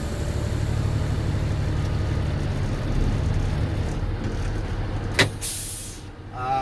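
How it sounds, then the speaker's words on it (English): Air parking brake on a truck tractor released during a Class A pre-trip inspection, a steady idling engine rumble followed by a sharp burst of air near the end, close and loud, no talking. "right now I'm gonna release my tractor brake"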